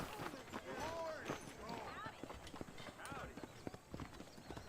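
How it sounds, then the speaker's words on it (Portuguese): Hooves clip-clop rapidly as a horse gallops in Red Dead Redemption, a dense rhythmic pounding with occasional whinnies, mixed under game dialogue and people talking. "Monte no seu cavalo."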